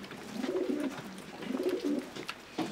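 A racing pigeon coos softly nearby, two rolling phrases followed by the start of a third, against quiet background rustling.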